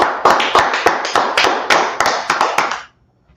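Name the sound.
audience clapping for the class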